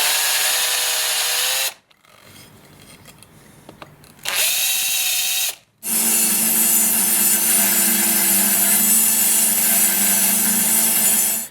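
Bench grinder fitted with a rotary platen grinding the edge of a budget axe, a loud steady whine with a gritty rasp that drops out briefly twice before a long continuous run, close and alone.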